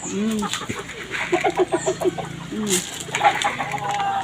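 Several nearby chickens cluck in quick repeated bursts, with a few louder calls mixed in and a faint flutter in the background.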